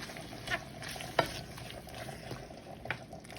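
Sauce sizzles in a hot pan while a utensil stirs it, leaving a soft steady frying hiss with a few sharp scrapes, faint and close, without speech.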